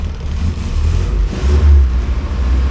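A 1980 Triumph TR7 engine idles steadily with a loud, close, low rumble that swells slightly partway through.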